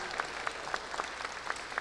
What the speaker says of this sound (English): If we can also give Alyssa a round of applause.